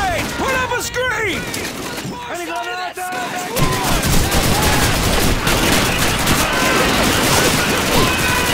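In the Call of Duty 2 Rhine crossing battle, an MG-42 machine gun fires from a house. Sparse shots and shouted soldier voices come first, then dense, continuous automatic fire and explosions fill the rest of the scene.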